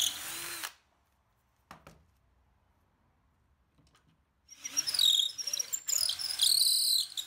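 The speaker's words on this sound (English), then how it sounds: "using my doweling jig to drill a half inch hole all the way through an offcut" A power drill in a doweling jig whines briefly, stops, then after a quiet pause bores loudly again through a wooden offcut, drilling a half-inch hole with a high, whirring, slightly chattering tone.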